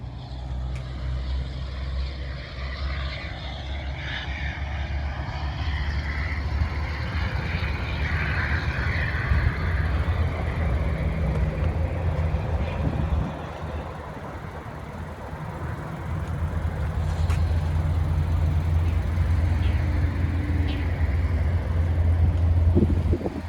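A 2020 Buick Encore GX with a 1.2-liter turbo engine and CVT transmission accelerates at full throttle, a steady loud low engine drone and road rumble that holds throughout with a brief dip midway.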